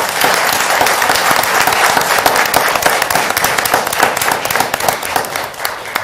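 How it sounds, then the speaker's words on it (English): An audience at a city council meeting applauds staff and community for signature events, with dense, sustained clapping that stays loud and busy for several seconds, and sharp individual claps standing out within it. "So I'd like to give everybody a round of applause."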